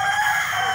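Chickens and a rooster in a backyard coop cluck and crow loudly and close up in a brief, continuous burst of fowl calls.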